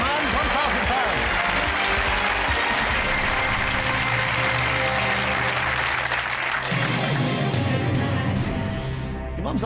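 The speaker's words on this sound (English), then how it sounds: "Your mum's up there doing a very sort of quietly proud applause." Studio audience of a British quiz show breaking into loud, sustained applause that fills the room throughout, with a brief lull and renewed clapping near the end.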